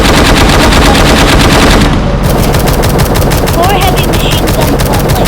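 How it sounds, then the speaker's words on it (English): Machine guns on a gun truck in the War Tycoon video game firing continuously, a dense loud rattle of rapid shots with a brief shift in tone midway, constant and close. "4 heavy machine guns, 1 light machine gun."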